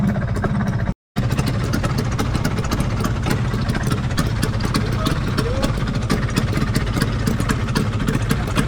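A Vespa scooter's engine runs close by on a touring ride, a steady low buzzing drone with rhythmic pulses that continues throughout after a brief cut near the start.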